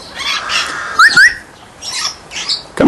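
A parrot gives a series of sharp, loud squawks and shrill whistled calls close by, in short separated bursts with brief pauses between.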